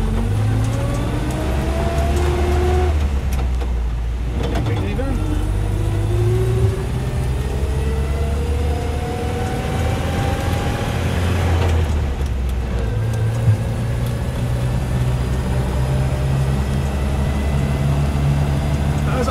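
Land Rover Series 1 86-inch soft top with a 2.25 petrol engine driving on the road, a loud steady engine drone with gear changes and rising revs, heard from inside the vehicle throughout.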